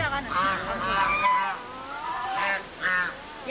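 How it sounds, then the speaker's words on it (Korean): Several loud, nasal goose honks in quick bursts, close by at a safari park in Jakarta, with a short pause between calls. "그리고 거위들도 이렇게 풀어놓았는데"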